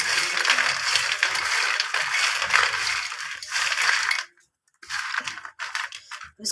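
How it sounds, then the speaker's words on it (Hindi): Hot fried peanuts being tossed and stirred with masala spices, a steady crunchy rattling and scraping that runs continuously, breaks off briefly, then resumes in choppy bursts, close and fairly loud with no talking. "तो देखिए गरम गरम में हम मसाले अच्छे से मिक्स कर लेंगे"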